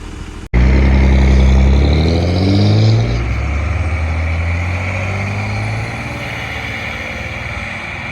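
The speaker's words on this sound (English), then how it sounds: "That's exhaust brake, doesn't it?" A loud, deep dump truck engine rumbles and decelerates on its exhaust brake, with a rough, low stuttering roar fading to a steady drone; no talking.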